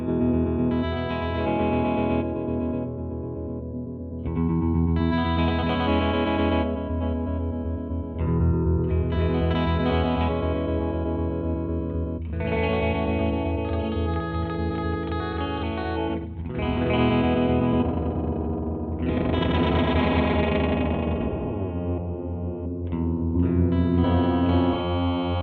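Guitar played through a Red Panda Particle V2 granular delay pedal with the feedback turned up, sustained distorted chords smeared with glitchy, pitch-shifting echo and chorus-like wobble, phrases blending into one another.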